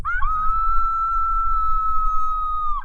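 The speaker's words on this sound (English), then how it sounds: "This is the sonic dome howler." A long, steady, high-pitched howl from a sonic dome coyote howler call rises quickly, holds one tone for over two seconds, then drops off at the end, heard alone.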